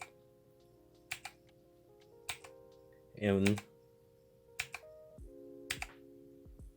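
Individual key presses on a K50 one-handed mechanical keyboard: sharp, close clicks in small pairs and clusters separated by quiet gaps, with a short spoken word in the middle.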